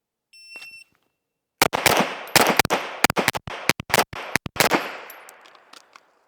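Pistol firing five rapid doubles at a shooting range, ten sharp loud cracks in tight pairs, preceded by a short electronic shot-timer beep and followed by fading echoes.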